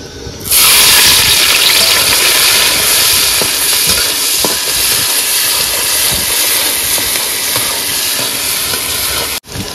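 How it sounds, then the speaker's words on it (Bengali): Onion, garlic and ginger hit hot oil with a loud, sudden sizzle that holds as a dense, close frying hiss while being stirred, ending in a brief scrape. "তারপরে দেবো এই যে পেঁয়াজ, রসুন, আদা"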